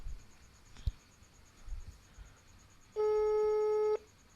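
A telephone ringback tone sounds once while a call waits for an answer, a steady electronic beep of about a second standing out clearly over quiet room background, preceded by a faint click.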